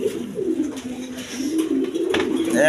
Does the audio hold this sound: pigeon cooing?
yes